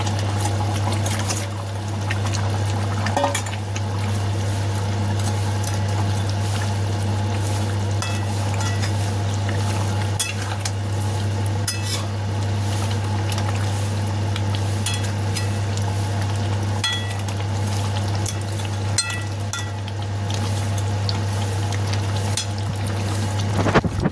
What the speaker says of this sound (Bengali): এবার আমি মাছগুলো সব দিয়ে দেবো।